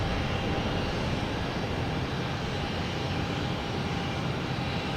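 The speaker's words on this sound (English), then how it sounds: "Here we have JetBlue, flight 516, A220 coming in from Buffalo." A JetBlue Airbus A220 jet descends toward landing at Boston Logan, a steady, loud broadband engine roar holding evenly throughout with no voices.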